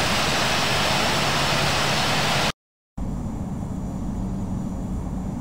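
The engines of a CRJ 1000 airliner roar in a broad, steady rush as it takes off in the flight game Infinite Flight. A short silent break interrupts it, and the roar then resumes at a slightly lower level.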